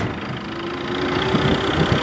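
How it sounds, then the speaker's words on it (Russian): Tractor engine running during a ride home, a steady mid-to-low chugging idle-like drone with a faint tonal whine, moderately loud and continuous with no talk. "Мы поехали на тракторе."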